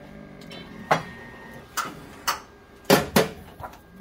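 A Duplo perfect binder clamping and gluing a book cover, giving a few sharp mechanical clunks and knocks close by over a quiet machine hum, with no talking.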